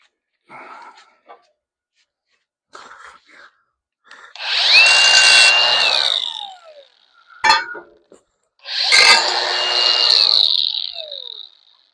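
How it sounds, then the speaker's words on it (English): An angle grinder fitted with a thick disc bites into metal during a 1973 Dodge D100 rear differential and airbag job, two loud sustained whining grinds of a second or two each, separated by short clanks and quiet handling noises. "I'll use the thick grinder disc."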